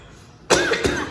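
A single sharp cough sounds close to the microphone during a church youth service, followed by a second, smaller cough burst.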